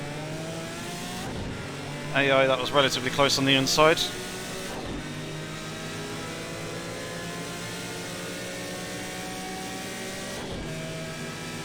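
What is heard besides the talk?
Group C race car engine braking in Project CARS 2 video game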